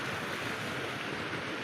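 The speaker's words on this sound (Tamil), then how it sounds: "தண்ணி வர சவுண்டு தெரியும், கேட்குது உங்களுக்கு." Water rushes at Bhivpuri waterfall near Mumbai, a steady broadband roar that stays close and even throughout the short stretch, with no voices heard.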